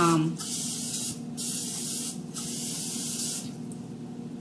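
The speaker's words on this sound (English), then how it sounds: "I'm just gonna spray this liberally with" Butter cooking spray hisses from a can onto a pan in several bursts, close and fairly loud, with short pauses between sprays and faint talk at the start.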